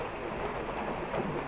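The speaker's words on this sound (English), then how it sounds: "even though it's raining right now a little bit" Under a dark sky, light rain falls in high wind as a faint, steady hiss of drops and gusting air with no distinct events or voices.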